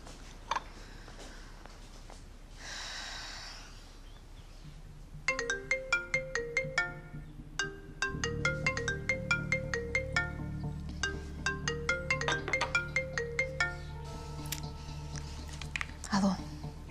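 Mobile phone ringing with an incoming call, a melodic electronic ringtone playing a repeating tune at moderate volume indoors, preceded by quiet rustling and soft background voices.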